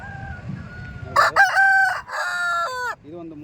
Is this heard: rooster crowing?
yes